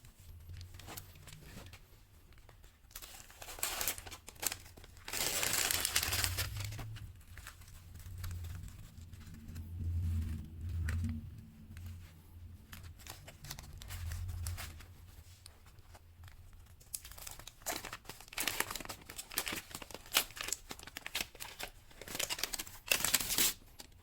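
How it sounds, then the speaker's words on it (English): Paper backing peeled from extremely sticky carpet tape during a carpet patch repair: quiet crinkling and tearing rips in short bursts, close by, with faint handling noises between pulls. "the main reason I want to get this in position before I pull the paper off is because the tape is extremely sticky"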